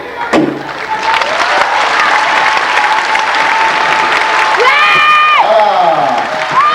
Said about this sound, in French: le public va vous applaudir